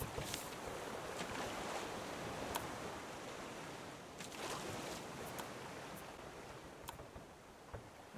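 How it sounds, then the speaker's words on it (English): Loud, steady ocean waves wash and roar continuously, with gusty wind noise and a few brief splashes over the surf, in the survival video game Raft. "These waves are very loud."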